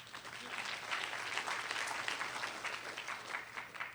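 A conference audience gives a steady round of applause, dense, continuous clapping heard at a moderate distance for about four seconds.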